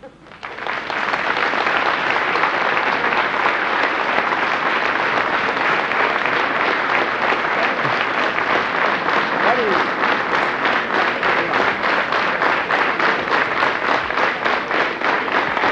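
A large audience gives a cimbalom band a loud, sustained welcome applause, thick uninterrupted clapping that swells quickly and holds steady.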